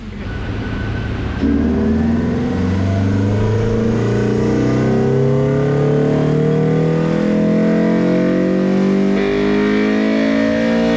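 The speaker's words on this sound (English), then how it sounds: "Yes, it revs to 9 grand" A Honda S2000 AP1 engine with a broken rocker revs hard and climbs steadily to a high-pitched scream near 9,000 rpm, loud and close, with no talking.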